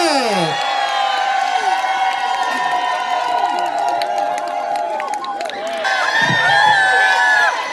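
A crowd of listeners at an outdoor autumn culture-sharing concert in Mansu-dong, Incheon, claps and cheers to welcome a singer, loud and close, with whoops, shouting and a ringing feedback-like whine over the din.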